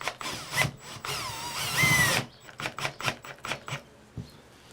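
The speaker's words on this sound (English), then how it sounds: "take your Phillips bit on your drill and you're just going to drive it in" A power drill fitted with a Phillips bit drives a drywall anchor into a wall, giving a couple of loud whirring bursts in the first two seconds, then a string of short, fainter clicks and taps.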